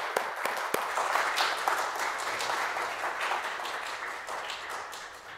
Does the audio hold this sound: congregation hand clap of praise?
yes